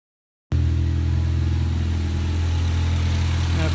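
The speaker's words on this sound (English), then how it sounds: "first start up on the tune. I can hear my turbo spool again" A tuned Ford Focus ST running catless with a new intake fires up after a brief silence, then settles into a loud, steady rumbling idle with a faint turbo whine above it, close and alone.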